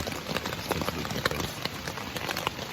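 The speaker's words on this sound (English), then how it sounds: "I can't tell if it's condensation or rain. I'm pretty sure it's rain." Rain drums on a tent during a tropical storm at a campsite, a steady dense patter with scattered sharper drops close overhead and no talking.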